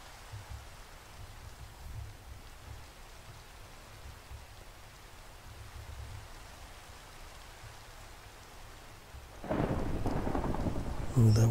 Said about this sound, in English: Ooh, that was a nice lightning strike.